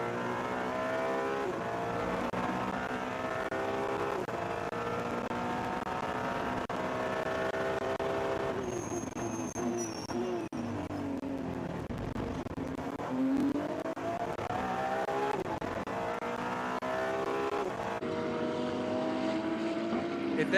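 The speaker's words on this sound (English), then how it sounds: "That is a glorious engine on that 296." Ferrari 296 race car engine heard onboard during the Shanghai 8 Hours race, a loud high revving wail rising and falling through gear changes, with a sharp dip mid-clip before climbing again, commentary faintly underneath.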